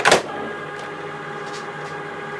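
A Cricut cutting machine reading an access card gives a sharp mechanical clunk at the start, then a steady motor whir with faint soft ticks, close by and with no talking.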